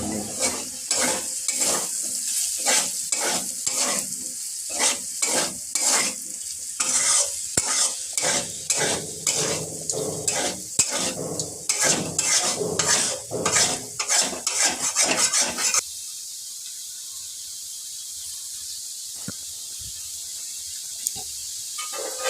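Potatoes fry in a pan with salt, turmeric, cumin and chili, a bright sizzle broken by rhythmic scraping stirs for about fifteen seconds, then a quieter steady hiss alone.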